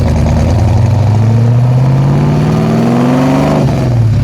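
A stroked and cammed Ford XA GT Falcon V8 revs loudly up to a high pitch and then drops back, its lumpy rumble close and continuous with no talk.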